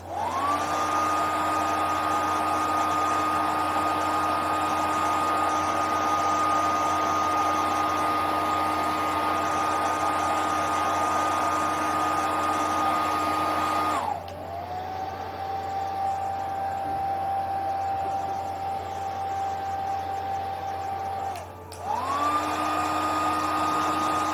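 A hair dryer runs close and loud, drying homemade zombie scab makeup, a steady whirring hum that dips in pitch twice as the speed setting changes, then returns to full power.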